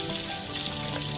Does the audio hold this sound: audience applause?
no